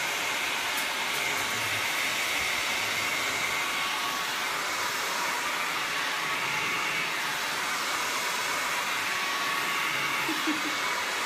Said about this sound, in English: I may have to break out my hair dryer because this paint's taking forever to dry.